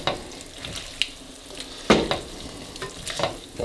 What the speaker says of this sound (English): I'm going to stir that in gently so I don't slop it all over my stove.